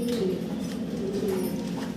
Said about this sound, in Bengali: হাঙ্গারিয়ান হাউস পিজন ভাই